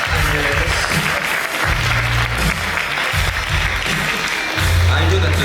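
Continuous clapping from a film festival closing ceremony crowd in Dinard carries on throughout while a person speaks over it.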